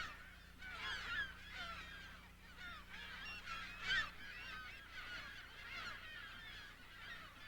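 A dense flock of California gulls calling continuously at Mono Lake, overlapping harsh cries rising and falling, with one louder burst near the middle, no talking.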